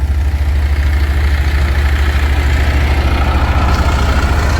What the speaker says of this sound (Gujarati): જોઈ લે આપણું ટ્રેક્ટર અહીં પીડ્યું